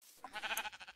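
A single short sheep bleat from the video game Minecraft, a quick wavering cry that is fairly close and clear, with no other sound around it.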